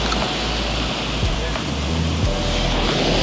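Waves wash steadily onto the hotel's sandy beach in Crete, a continuous loud rushing surf close by with no pauses.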